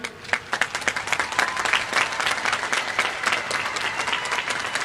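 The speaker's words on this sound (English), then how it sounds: "give yourselves a big round of applause for your hard work" Sustained applause from graduates and audience at a 2021 high school graduation ceremony, dense steady clapping filling the hall from start to finish.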